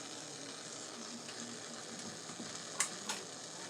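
A spoon stirring a cornstarch slurry for blueberry cheesecake egg rolls, a soft continuous scraping swirl with two brief clinks near the end, with no voices.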